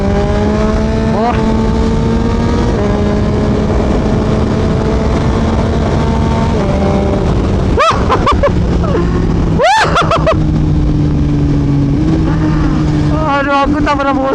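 A 2022 Yamaha MT-09 V3 motorcycle fitted with a modified exhaust drones steadily while riding, with shifting engine pitch, several sharp throttle blips and revs, and constant wind rush.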